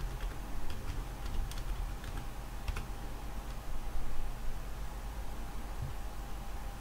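Steady typing on a computer keyboard, quick light key clicks spread evenly across the stretch, close and clear over a low hum, with no talking.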